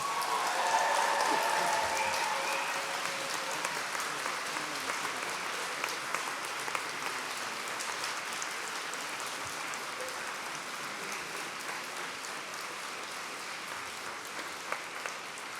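A large audience at a University of Manchester graduation ceremony in December 2016 claps and cheers. The dense, sustained applause fills the hall for the whole stretch at an even level, dotted with louder individual claps.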